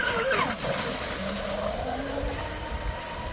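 A TFL Cheetah RC boat runs on a lake at partial throttle, its motor giving a steady buzzing whine with pitch sweeps as it turns and accelerates, heard from a distance over wind and water noise.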